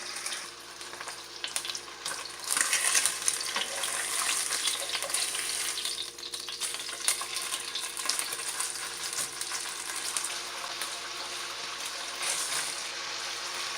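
Jack Crevalle fish sizzling in a hot pan, a steady loud crackling fry with bright spattering that holds throughout without speech.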